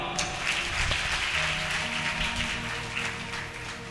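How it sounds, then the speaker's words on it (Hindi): Audience at a Radhashtami religious discourse clapping together, a steady crowd patter across the hall with a low hum and some background noise, moderately loud and sustained. "ताली बजाओ।"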